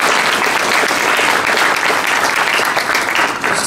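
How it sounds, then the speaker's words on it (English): Audience applause at a student recognition during an Ohio University panel event: dense, steady clapping from a large crowd, loud and close throughout, fading slightly at the end. "So can I get a round of applause?"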